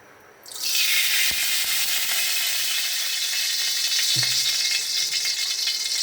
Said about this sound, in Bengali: তেল দিলে খালি ছিটিয়ে যায়।